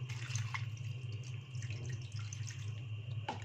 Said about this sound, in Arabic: هنزل بكوباية مية